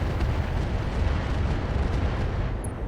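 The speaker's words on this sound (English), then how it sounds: "So we're going to fire our AX here." An AX weapon firing in the RogueTech mech game, a dense sustained rumbling roar of explosive bursts, loud and continuous with no pauses.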